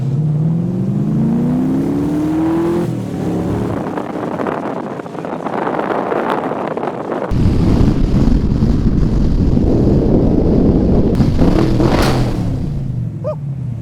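Heavy wind and rain roar over an open car as its engine drones, with a rising rev early on and a louder gust-filled stretch later.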